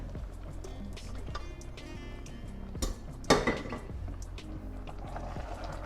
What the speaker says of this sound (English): So the next thing I'll do now is to pour this in here.